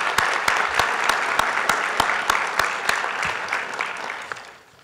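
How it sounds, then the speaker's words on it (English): Audience applause at a conference session on supporting transfer students, a steady crowd of clapping hands that holds for several seconds and then fades out at the end. "let's give them a round of applause as well"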